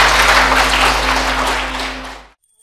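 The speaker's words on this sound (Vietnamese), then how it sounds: "Hãy vỗ tay cảm ơn Chúa Giêsu" Congregation applauding at a Vietnamese Protestant church service after a prayer, a dense, steady wash of clapping that fills the space and then cuts off abruptly near the end.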